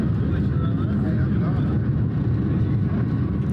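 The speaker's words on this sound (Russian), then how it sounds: "Там в момент сильного ветра экстремально садился самолет польской авиакомпании Enter Air." A Polish Enter Air passenger airplane lands in extreme gusting wind during a hurricane, its engine roar and rushing wind forming a steady broadband drone.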